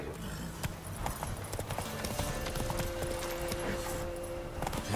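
A horse gallops in The Witcher 3, its rapid hoofbeats drumming steadily over a busy game soundscape with a faint tonal hum in the background.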